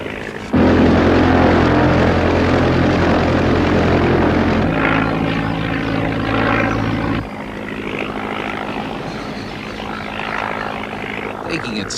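A B2C propeller aeroplane climbing slowly, its engine droning loud and close with a strong low throb, then the tone shifts and eases as it pulls away, ending as a fainter steady hum.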